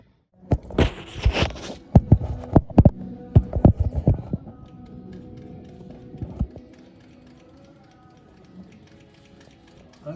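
Vacuum pump being worked to test the turbo actuator on a VW Transporter in limp mode: a burst of sharp clicks and taps up close, then softer faint mechanical ticking fading away.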